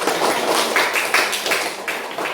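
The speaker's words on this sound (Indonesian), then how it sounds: "Tepuk tangan untuk kalian semua." Students in a sixth-grade primary classroom applaud together: a loud, continuous patter of clapping from a group of children, steady for the whole stretch with small surges in intensity.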